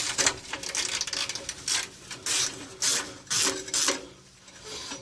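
A hand ratchet clicks rapidly while removing an exhaust bracket on a 1996-2000 Nissan Pathfinder during a catback exhaust replacement, with several close, bursty runs of pawl clicking separated by short pauses.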